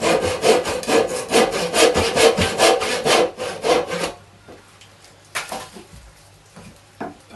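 A hand saw cutting a pallet wood tenon, with steady rhythmic back-and-forth strokes for about four seconds, then stopping, followed by a few faint knocks and scrapes.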